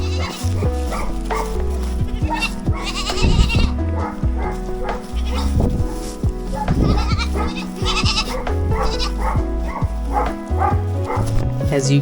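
Several young goats on a farm bleat in a loud, chaotic chorus of overlapping calls close to the listener, with brief human talk mixed in and a dog-like yelp or two.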